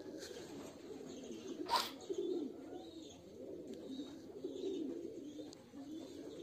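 King pigeons, yellow and red, coo softly in a loft cage, low rolling murmurs repeating under a quiet room hum, with one sharp brief knock partway through.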